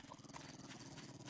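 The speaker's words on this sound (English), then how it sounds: "And now I'm hearing the ugly sound of dogs growling." Dogs growl and whimper faintly under constant background noise in the survival game 7 Days to Die, alpha 12.4. The low, rough snarls come in quick repeated bursts and sound distant.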